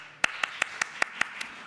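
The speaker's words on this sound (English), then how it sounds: "at camp, we used to clap like this" Hands clap in a steady rhythm for a camp song at a family Shabbat gathering: seven crisp, evenly spaced claps, fairly close and alone, with no voices over them.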